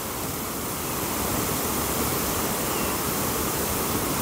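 Steady broadband roar of a waterfall cascade near a rock outcrop, a continuous dense rush of falling water without pause, fairly loud and close, with no voices.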